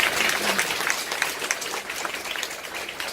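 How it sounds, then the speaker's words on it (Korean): An audience at a lecture seminar stands and applauds a guest, a dense, steady wash of clapping held at moderate level for a few seconds. "잠깐 일어나서 박수 한번 쳐드리세요."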